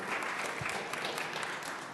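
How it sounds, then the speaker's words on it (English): An audience at a city council meeting applauds, a dense steady patter of many hands clapping at moderate distance that fills the whole moment without speech. "if you could hold your applause so we can get all the folks in"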